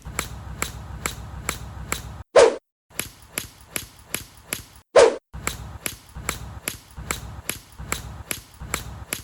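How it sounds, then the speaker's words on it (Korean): Golf club strikes a ball again and again: a rapid regular run of sharp cracks, broken by two louder, fuller impacts, with no talking. "공 맞았을 때 임팩트의 소리가 다른 걸 아마 느끼셨을 겁니다"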